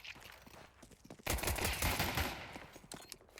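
Gunfire in Counter-Strike 2 during a Jordan vs Lebanon match: a quieter stretch of scattered shots, then a loud, dense burst of rapid firing that fades toward the end.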